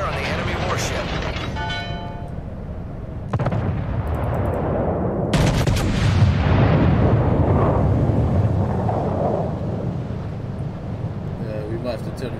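Warship guns fire in a naval battle video game, heavy booming salvos with rumbling tails rolling one after another, loud and close, with voices talking over the gunfire.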